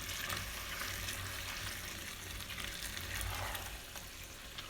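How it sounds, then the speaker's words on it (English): Taco meat cooking in a pan, a soft continuous sizzle with faint stirring movements, fairly quiet and steady throughout. "So now I'm going to stir all this in."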